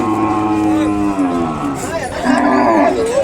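A young calf moos loudly and close by at a cattle market, a drawn-out, wavering call that rises and falls over a few seconds.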